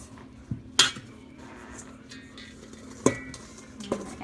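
Pecans tipped into a bowl of beer candied pecan mixture, giving a few sharp clinks and taps against the bowl with quiet pauses between them.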